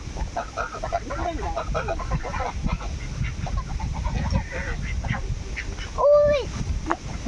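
Deshi ducks kept on a village farm, scattered quacks and honking calls in a busy mix under background noise, with one louder nasal call near the end.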